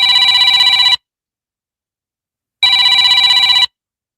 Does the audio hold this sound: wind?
no